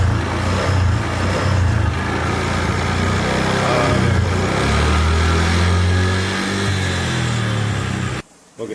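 A petrol motorcycle engine started up and running close by, a steady loud throbbing drone with slight rises in revs, cutting off abruptly near the end.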